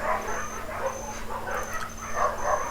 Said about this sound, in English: The dogs are really noisy.